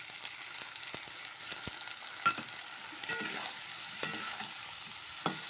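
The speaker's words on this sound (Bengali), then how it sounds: "সর্ষে বাটাটা দিয়ে একটু খানিক্ষণ নাড়াচাড়া করে নিলাম" Vegetables stir-fried in a pan with mustard paste after a nigella seed tempering. A steady soft sizzle runs under occasional sharp scrapes and knocks of a spatula against the pan.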